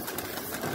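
Pigeons cooing outdoors in a low, soft, continuous murmur that sounds fairly close, with no talking.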